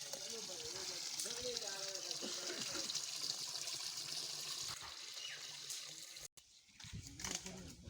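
Tap water runs and trickles steadily while chicken is washed outdoors during an Eid picnic, close and fairly quiet, with a short cut near the end and scattered background noise.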